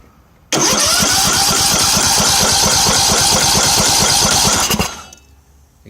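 A broken Briggs and Stratton 19.5 engine cranking and trying to start, with loud, rapid rhythmic chugging pulses for about four seconds that wind down into silence without catching.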